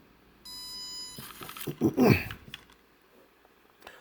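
An Armstrong 2nd-gen fingerprint lock (SDWF-MC202-G2) sounds a steady electronic beep for about a second while programming a finger, followed by a short burst of higher chirps and clicks, close up and fairly loud.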